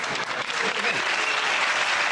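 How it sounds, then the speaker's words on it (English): A television studio comedy panel audience claps steadily for about two seconds, a dense wash of applause from part of the crowd with no speech over it. "It's interesting to hear exactly half the audience applaud"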